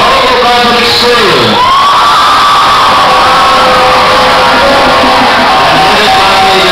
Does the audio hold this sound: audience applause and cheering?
yes